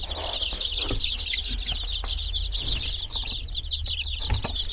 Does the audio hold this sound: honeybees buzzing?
no